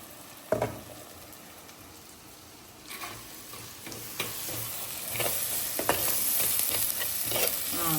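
Chili and coriander powder sauté in a drop of hot oil, giving a soft sizzle punctuated by sharp scraping and stirring clicks of a spoon against the pan, growing denser and louder toward the end.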